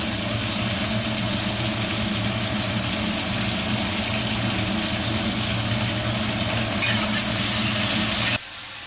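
Stir-frying in a wok with a splash of soy sauce: loud, continuous close sizzling over a steady low hum, swelling briefly brighter near the end before dropping off abruptly.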